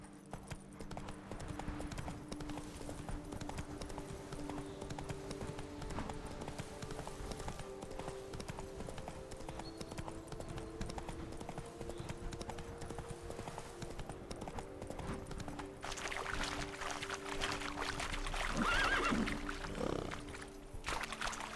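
Horse hooves clip-clop steadily in a video game, a quiet rhythmic trot that continues throughout, with a brief brighter burst of game sound near the end.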